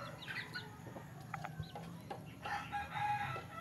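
Chickens cluck and a rooster crows in short bursts, with more clucking and a crowing call toward the end over a steady low farmyard hum.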